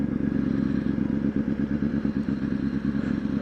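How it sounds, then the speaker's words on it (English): A motorcycle engine runs steadily with a deep, rhythmic low throb and some clatter, heard close and continuous with no talking. "God, this bike sounds good."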